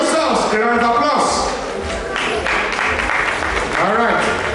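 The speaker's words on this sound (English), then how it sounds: "Please give yourselves a round of applause." Crowd applause rises and falls in a steady wash beneath a loud voice talking, with cheering mixed in.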